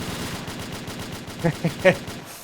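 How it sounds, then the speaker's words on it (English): Automated turrets in a video game fire rapid machine-gun bursts, a steady stuttering patter with a few sharper shots standing out toward the end, moderately loud and close. "then those guys get gunned down by turrets"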